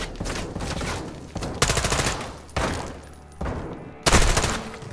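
Bursts of automatic gunfire in Call of Duty Modern Warfare 2, loud and close, arriving as several separate volleys with brief gaps between them and no talk over them.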